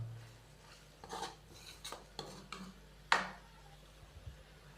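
Fried onions go into a pan of tomato masala for a chicken fry, bringing a series of scattered metallic clinks and scrapes of a spoon against the pan, with one sharper clatter, all fairly faint.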